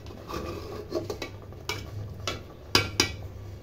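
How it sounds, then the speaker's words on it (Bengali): Thick sweet-sour mango pickle being spooned and tipped into a bowl, with several soft clinks and scrapes against the dish in short separate bursts, close by and fairly quiet, with no talking. "এবার এটাকে আমি ঢেলে নেব একটা বাটিতে।"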